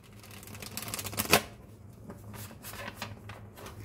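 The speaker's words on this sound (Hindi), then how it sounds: "मैं आपके सामने ही कार्ड्स को शफल करके बताऊंगी आपकी रीडिंग।" Tarot cards being shuffled by hand, a fluttering riffle that peaks in a sharp snap, then softer card rustles and taps follow, close and fairly quiet.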